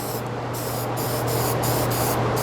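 Marsh ink is sprayed onto pine wood in a continuous, close, loud hiss, with a steady low hum underneath and faint rhythmic pulsing through the spray.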